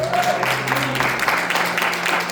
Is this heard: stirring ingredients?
no